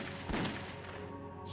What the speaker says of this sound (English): We knew that gunshots had been heard by the air traffic controllers